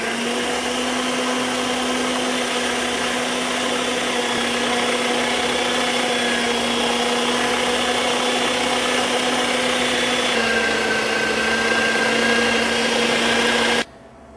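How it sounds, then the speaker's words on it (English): A meat grinder grinds alligator meat with other meatball ingredients, its motor a loud, steady hum running continuously for about fourteen seconds before cutting off abruptly at the end. "Fire the grinder up."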